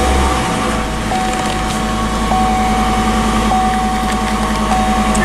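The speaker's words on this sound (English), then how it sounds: "So yeah, cold start." Straight-piped truck engine running right after a cold start: a steady, loud, rough low rumble that holds constant throughout with no talking.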